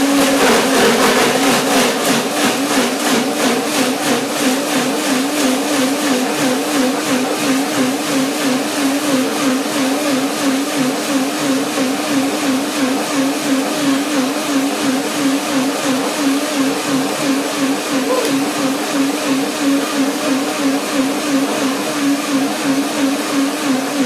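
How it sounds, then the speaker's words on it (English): A countertop blender runs steadily and loudly, whirring through cashew cream with lemons and dates for a raspberry lemon cream pie, its motor pitch wavering slightly throughout with no talking. "I blend first the cream, and then I put the cashews in and so on"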